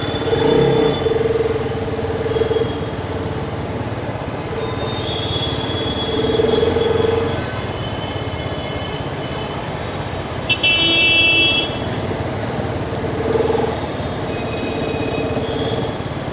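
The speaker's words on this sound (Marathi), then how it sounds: "आता ह्या सुंदर बाईकची टेस्ट राईड घेऊया" A TVS Apache RR 310 motorcycle rides through traffic, with a constant loud rush of engine and wind and occasional horn toots from nearby vehicles.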